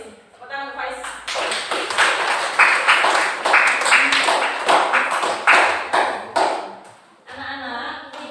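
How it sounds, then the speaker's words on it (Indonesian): A classroom of students applauds for a teacher, a dense burst of clapping that builds, holds steady for several seconds and fades, with sharp individual claps standing out, recorded indoors at close range. "Tepuk tangan untuk Pak Is."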